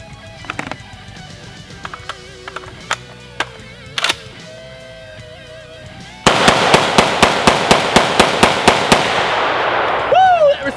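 Rapid volley of about a dozen loud, close rifle shots from a Century C308 during a 1000-round torture test, each crack sharp and evenly spaced, following a stretch of quieter clicks and handling noise.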